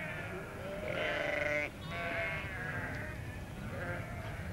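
Sheep bleat in a desert feedlot with overlapping, wavering calls from several animals, fairly close and loud above a constant murmur of the flock.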